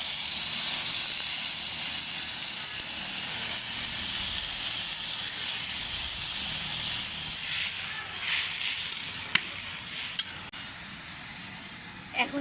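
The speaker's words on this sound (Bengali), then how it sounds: "এখন হচ্ছে হালকা করে ঝোল দিয়ে দেবো।" Tilapia fish curry with tomato sizzles steadily in a frying pan as thin broth is added, a continuous bright hiss of hot oil running loud and close throughout with light stirring clicks near the end.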